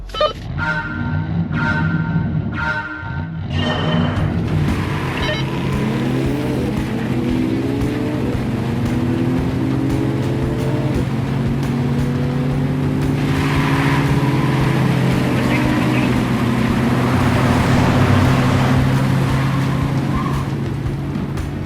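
Mercedes-AMG C43 cars on Continental sport tires launch hard off the line in a drag race, with loud engine roars rising steadily in pitch through the gears and a sustained, overlapping drone of acceleration.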